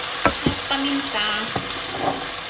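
Leftover rice with oyster sauce and pepper fries in a pan, a steady sizzle broken by sharp scraping clicks of stirring, close and moderately loud.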